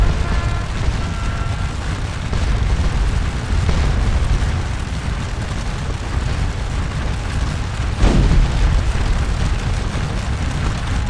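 Massed artillery in Scourge of War Waterloo pounds away in a dense, continuous rumble of booms and bursts, loud and overlapping, with a heavier blast standing out near the end and no voices.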